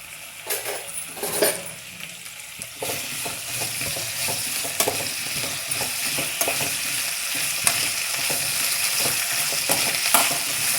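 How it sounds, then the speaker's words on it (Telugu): Okra cooking in a little oil in a pan, village-style, giving a steady close sizzle throughout with occasional spoon stirs and light metallic clinks against the pan. "బెండకాయలు వేసుకొని ఫస్ట్ బెండకాయలు మగ్గిస్తామని కొంచెం నూనె వేస్తున్నా"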